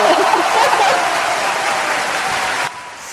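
A round of applause for podcast guests fills the room, a dense, loud wash of clapping that holds steady for under three seconds and then stops abruptly, leaving quiet behind.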